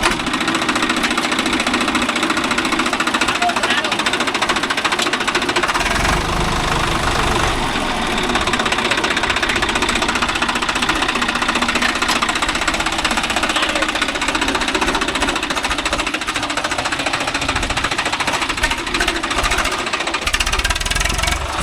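A Swaraj 744 FE tractor engine runs steadily in dry farmland, a loud, continuous diesel chug with a knocking, hammering rhythm that holds throughout and has no talk over it.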